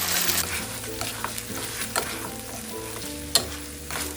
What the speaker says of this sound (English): Add some oil to a pan and lightly brown the quail eggs over medium heat. Once they are golden, add the sauce and let it simmer.